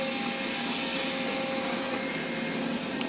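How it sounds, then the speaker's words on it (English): A Roborock S5 Max robot vacuum running on its first mapping run, a steady, even whirring hum with a faint high tone, constant and close, with no talking. "this is our first run with this vacuum"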